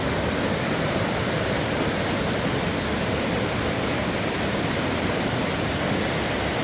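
A forest stream in Thailand rushes steadily, a dense, continuous wash of flowing water with no breaks, close and fairly loud throughout.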